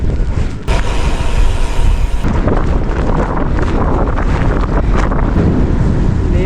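Heavy wind roaring across the microphone of a cyclist riding into a headwind in cold rain, loud and continuous broadband buffeting that briefly drops out near the start before surging back, with no voices.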